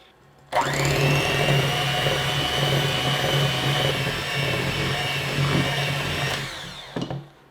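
An electric stand mixer whirs steadily as salt and flour are mixed into blondie cookie dough, a loud continuous motor drone with a faint mechanical hum, starting abruptly and cutting off near the end.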